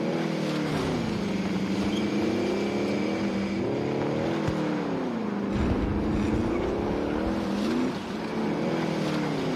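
A car in Call of Duty Vanguard Warzone drives with its engine loud and close, the pitch rising and falling as it revs and shifts, over a constant rumble from the road.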